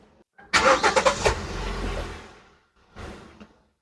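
A car engine cranks and catches, revs up sharply with a few surges, then drops back toward idle before a short second burst; close and fairly loud, with no talking.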